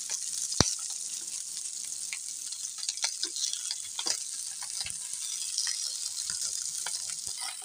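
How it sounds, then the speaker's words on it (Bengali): Small jatka fish fry in soybean oil in a pan as they are turned over, making a continuous bright sizzle scattered with irregular pops and clicks, close and moderately loud, with no talking. "তো মাছগুলো আমরা উল্টে পাল্টে ভেজে নিচ্ছি।"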